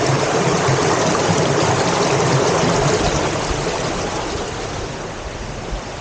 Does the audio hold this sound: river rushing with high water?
yes